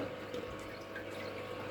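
Water is poured in a light, steady trickle into a fish tank, faint and continuous, with a soft splashing texture that stays even throughout.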